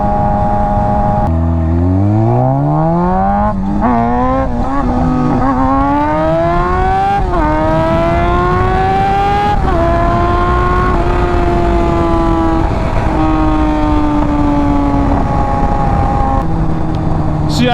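Motorcycle pulling hard in first gear during power wheelies, its engine note climbing steadily as it revs, then holding a high sustained pitch before dropping off near the end; loud and continuous with no talk.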